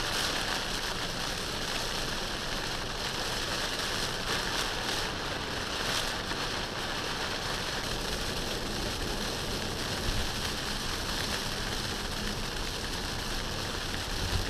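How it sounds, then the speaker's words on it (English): Heavy rain pours steadily outside a Tesla Model Y on a Route 66 drive in Illinois, a dense, constant hiss with a faint vehicle rumble underneath and no talk. "Coming down hard out there with the rain."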